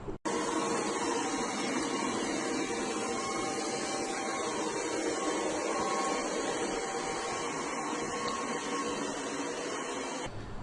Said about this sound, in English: Here's a quick video of this robot vacuum in action.